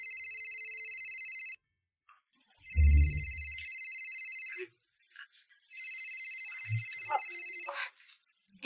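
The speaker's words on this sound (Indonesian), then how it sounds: "Kayaknya ada yang telepon." A telephone ringtone plays in repeating bursts of a bright electronic melody. It stops briefly and then resumes, with a low thump and a few small incidental noises in between.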